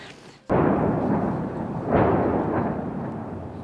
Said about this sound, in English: Every day and night here is punctuated now by the sound of explosions as artillery pounds the outskirts of Ukraine's second largest city.